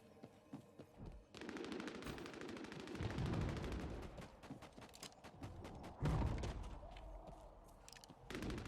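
A silenced submachine gun fires in a video game in long rapid bursts of clipped, rattling shots, with brief pauses between volleys and heavier blasts and other gunfire layered in.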